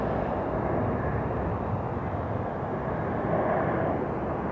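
An American Embraer jet comes in to land at Hartsfield-Jackson Atlanta International Airport, its engines giving a steady broad roar that swells slightly, heard alone at moderate distance.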